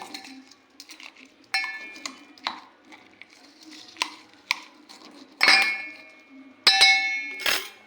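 Maharashtrian eggplant bharit being stirred in a bowl with onion, coriander and turmeric, uneven clinks and scrapes of a spoon against the dish, with a few louder bright clanks near the end.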